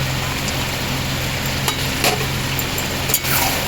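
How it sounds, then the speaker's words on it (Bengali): Chicken curry with fried papaya and potato is stirred in a pan over a steady low sizzle, with a few brief utensil knocks against the pan. "আরও কিছুক্ষণ এইভাবে নাড়িয়ে নেবো"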